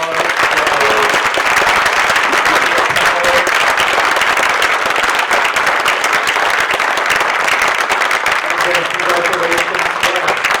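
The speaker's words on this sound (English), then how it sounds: "Can we have a round of applause for" Loud, sustained applause from a crowd at an award ceremony, dense clapping filling the room for about ten seconds with faint voices underneath.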